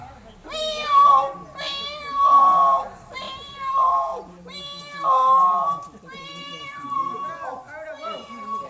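Cats meow and caterwaul in a Tamil stage drama: a tom and a female trading drawn-out, wavering yowls in several loud bursts about a second apart, with rising and falling pitch throughout.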